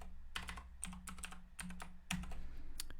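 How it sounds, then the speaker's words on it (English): Rapid clicking keystrokes on a computer keyboard as a username and password are typed, close and clear in short irregular bursts with brief pauses. "And I'll just enter a fake username and password here."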